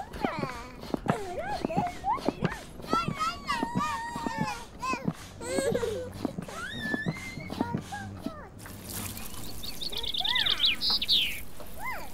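A bird chirps and tweets in a busy scene of repeated short calls, with high rapid twittering near the end, mixed with a child-like voice and other chirpy sounds.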